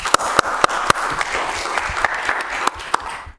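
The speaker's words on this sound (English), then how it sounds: "A round of applause for them, please." Applause at a city council meeting: a smaller group claps, with distinct sharp individual claps standing out in an irregular rhythm over a softer clapping bed that fades out at the end.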